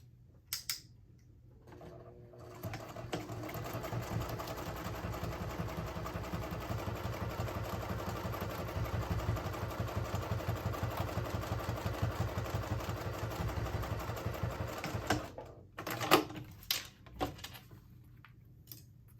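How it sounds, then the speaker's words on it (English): A sewing machine top stitches along the edge of a colour-block wristlet, a steady mechanical whirr running continuously for about thirteen seconds, then stopping into a few handling clatters. "I'm going to take it to the machine and I'm going to top stitch at 1/8 of an inch all the way along this edge"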